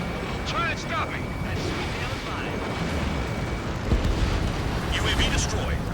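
In Ace Combat 7, an enemy UAV is blown apart, producing a deep, rumbling explosive roar that swells over sustained jet and battle noise, with radio voices talking over it.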